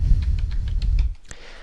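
Keys on a computer keyboard are tapped in a quick run of light clicks over a low background hum, ending with a sharper final keystroke; no one speaks.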